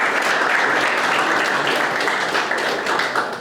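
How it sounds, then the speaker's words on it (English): A club's first general meeting audience claps, a dense, steady burst of applause from a roomful of people that tapers slightly at the end. "We're clapping for everybody."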